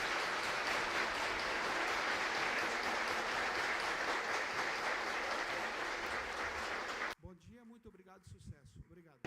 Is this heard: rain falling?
no